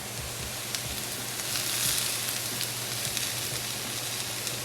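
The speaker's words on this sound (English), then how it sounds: "While our vegetables are cooking, mixed vegetables, we're gonna add in our garlic, onion" Mixed vegetables with garlic and red onion sizzle steadily in a hot pan for homemade chicken fried rice, a constant close hissing fry with faint stirring ticks and no voices.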